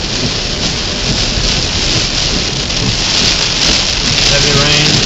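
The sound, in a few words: heavy rain during storm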